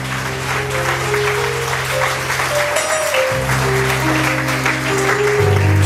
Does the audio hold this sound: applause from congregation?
yes